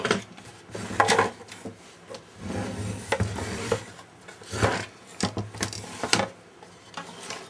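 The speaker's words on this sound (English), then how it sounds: "I will uh, give this cabinet a good cleaning" Cloth rubbing and wiping over the wooden cabinet of an old Admiral 5R37 radio during cleaning, irregular scrubbing strokes at close range with no talk.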